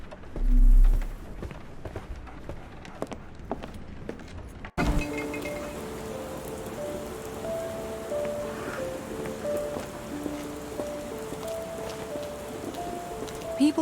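Rain falls on Baker Street in a Sherlock Holmes video game, a constant patter and hiss of drops, faint at first and then heavier and fuller after a sudden shift, with scattered soft tones over it.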